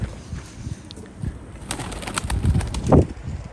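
Pigeons coo low and soft close by, with rustling and a light flutter of wings midway through.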